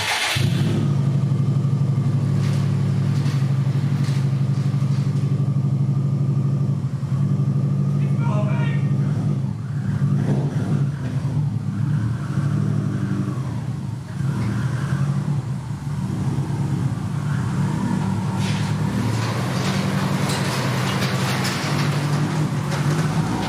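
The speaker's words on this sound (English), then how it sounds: "I should probably move the car that's blocking the garage door" A wide-body Subaru STI's engine runs with a steady low, droning rumble, close and loud throughout, with slight shifts in pitch as it moves off under its own power, and occasional voices mixed underneath.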